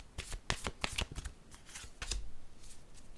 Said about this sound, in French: je vais piger une carte noire pour ce jeu aujourd'hui